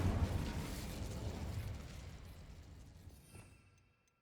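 Incendio fire spell in Hogwarts Legacy, heard as a loud whooshing burst of flame that sustains with a low roar and then fades out over a few seconds, with no talking.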